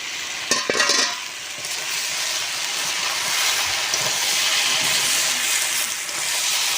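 Malabar spinach and vegetables stir-fried in a pan, giving a loud, steady hiss of sizzling with a couple of sharper scrapes near the start and no voices.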